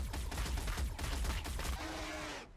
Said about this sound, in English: That is pulse shotguns if ever I've seen it.